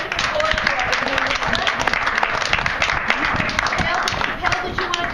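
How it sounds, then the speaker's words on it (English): Audience applause fills a room at a community gathering, a steady wash of many hands clapping at even loudness throughout, with no one speaking over it. "Let's give a round of applause for our"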